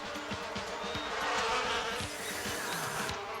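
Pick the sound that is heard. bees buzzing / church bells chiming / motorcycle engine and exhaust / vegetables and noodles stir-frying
bees buzzing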